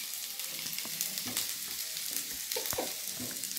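Potatoes and eggplant fry in a pan, a steady broadband sizzle running throughout with irregular scraping knocks as a spatula stirs them, close and moderately loud with no talking.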